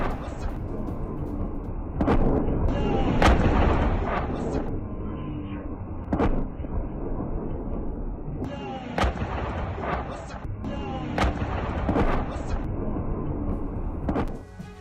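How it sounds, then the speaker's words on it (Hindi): Heavy FAB-3000 bombs, three tonnes each, exploding in a strike on a Ukrainian military base, heard as a series of loud, sharp blasts and booms spread across the stretch, with rumbling between them. "3 टन के वजनी फैब 3000 बम से दहला दिया है"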